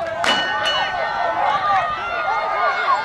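A ringing metal bell marks the final lap of a distance race at an outdoor county high school track and field championship, its repeated clangs sounding over the noise of a cheering crowd.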